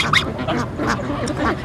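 Farm ducks quack in short, bright bursts close by among chickens and geese, several calls overlapping in quick succession over a steady background of flock noise and faint human voices.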